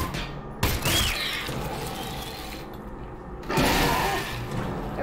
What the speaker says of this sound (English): There we go. Nice shooting, alyx.